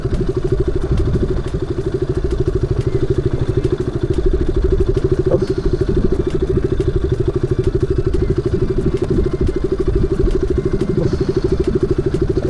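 A motorcycle engine idles loud and close on a mountain road near Kalimpong and Sikkim, a steady rapid low putter with rattling clatter running throughout.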